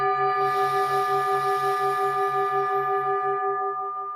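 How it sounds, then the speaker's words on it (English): A meditation bell is struck once and rings on as a long, steady tone with a soft pulsing shimmer, fading slowly toward the end, alone and unaccompanied. "Inviting the bell."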